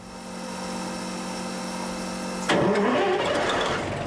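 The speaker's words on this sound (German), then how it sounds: "Hat noch einen Original-Maybach-Motor." A DB V60 diesel locomotive with its original Maybach GTO 6A engine, 650 PS and about 48 litres, has a steady starter whine, then fires up loudly and settles into a rough, close running roar.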